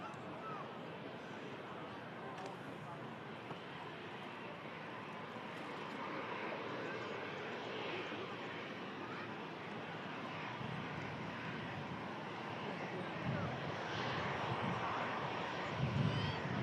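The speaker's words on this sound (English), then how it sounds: "380 begins the taxi" Airbus A380 airliner taxiing at an airport, a steady distant jet engine rumble that swells slightly toward the end, with voices chatting faintly over it.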